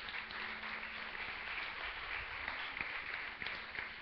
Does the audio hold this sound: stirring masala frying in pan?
no